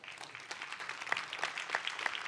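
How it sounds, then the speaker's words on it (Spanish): A church congregation breaks into scattered applause during a sermon, a moderate wash of clapping with a few sharper individual claps standing out, fairly steady across the short stretch. "Deme un aplauso"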